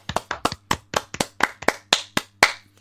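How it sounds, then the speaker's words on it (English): Close, crisp hand claps ring out at a quick, even pace, about a dozen and a half in a few seconds, with no voices over them. "It's not a round of applause if you don't join in."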